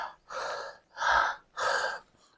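A person struggling to breathe gasps three times in a row, each a harsh, drawn-out breath separated by brief pauses, heard close and alone without any talking.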